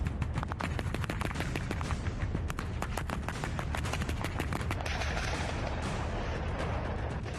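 Russian troops stationed near the Ukraine border fire their weapons in rapid, loud bursts of gunfire and heavy booms that come in dense clusters, then give way to a rumbling wash of continued fire.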